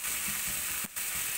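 Onions frying in a pan give a steady, soft sizzle with faint crackles and a brief stir, no voices.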